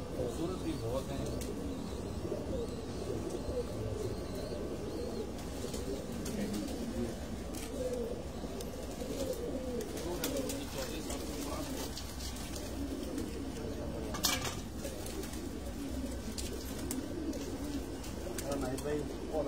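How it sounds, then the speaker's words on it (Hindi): Soft pigeon cooing on a rooftop in Sukkur, Pakistan, mixed with a steady murmur of people talking nearby, with occasional brief clicks and rustles. "ये नाहिद खान अपने कबूतरों का शौक करवा रहे हैं दोस्तों को।"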